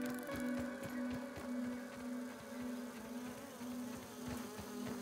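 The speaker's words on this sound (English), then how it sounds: "Got some gnats." Gnats in the Grounded video game give off a steady, close insect buzz with a constant whine, holding the same drone through the whole stretch with only small rises and falls.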